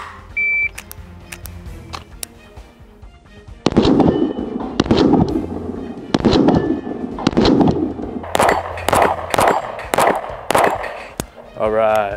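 Gunshots from a Staccato XC pistol on a shooting range ring out as a string of sharp, loud, close reports, irregularly spaced and with some in quick pairs, separated by brief quiet gaps.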